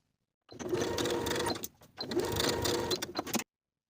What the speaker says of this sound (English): Sew horizontally along the placket edge from fold to fold with a 5/8 inch seam allowance.